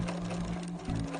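A sewing machine runs steadily while stitching a generous 1/4 inch seam along fabric edges for a pillow, with a continuous close-up motor hum and a brief dip in speed near the end.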